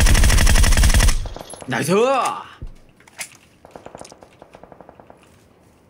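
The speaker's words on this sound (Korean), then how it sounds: "자기장 속에서 자꾸 총소리 나요" Automatic gunfire in the PUBG battle royale game, a dense loud burst at first, then scattered quieter shots further off, with players' voices talking over the game sounds.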